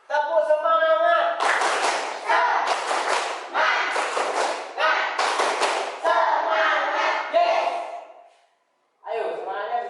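A group in a classroom claps out a rhythmic spirit-clap pattern together, loud bursts of unison clapping separated by short gaps and mixed with chanting voices.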